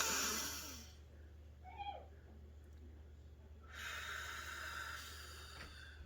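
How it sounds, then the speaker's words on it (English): A slow, deep inhalation through the nose, close and soft, followed by a quiet pause and then a long airy exhale, with faint background hum. "So you would just like breathe in"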